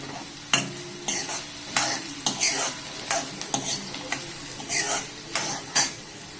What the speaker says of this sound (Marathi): कांदा आता मस्त परतून घेऊया लाल होईपर्यंत परतवून घेऊया